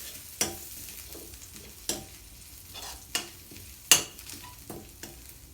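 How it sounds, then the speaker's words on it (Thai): Garlic and pork stir-fry in a hot pan, a soft continuous sizzle broken by sharp scraping strokes of a spatula every second or so, close and clear with no talking. "ใส่กระเทียมลงไปนะครับผม ตามไปด้วยหมูนะครับ ให้กระเทียมมัน พอเหลืองนิดๆนะครับผม"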